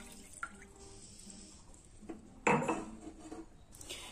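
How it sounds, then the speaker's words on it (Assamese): Water from a cup pours into a metal pan on a home kitchen stove, a brief splashing gush with clinks of the vessel, set among quieter kitchen handling noises. "এয়া একাপ পানী দি দিলোঁ"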